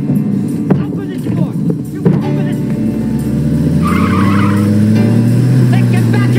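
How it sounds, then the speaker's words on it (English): A car pulls away with tires squealing, its engine rising to a loud, steady drone, while a voice shouts over the start of it. "You stop this car right now"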